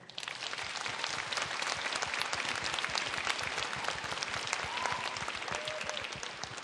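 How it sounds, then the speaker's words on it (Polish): A concert audience at the Polish show "Kraj nad Wisłą" in Podlasie gives a big ovation: loud, thick, continuous clapping from a large crowd that keeps going throughout, with a couple of faint tonal notes ringing through the noise. "Wielkie brawa."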